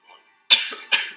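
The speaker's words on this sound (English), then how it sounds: "sorry about the cough" Two sharp coughs from one person, close and fairly loud, the second following about half a second after the first, with a faint breath beforehand and nothing else around.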